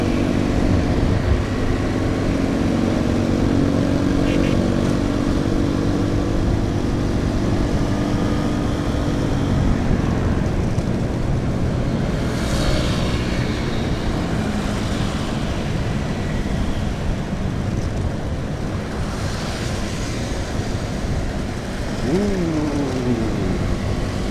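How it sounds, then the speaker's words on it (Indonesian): A stock, unmodified motorcycle engine drones steadily while riding through town, a constant low rumble mixed with road and wind noise, with brief pitch sweeps near the end and no talk. "Walaupun ya mesinnya masih aslinya, nggak ada tambah-tambahan atau embel-embel racing"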